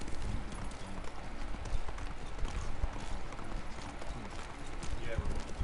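Horse hooves clip-clop steadily in a video game, a continuous rhythmic trot running under a dense game soundscape with a voice talking over it.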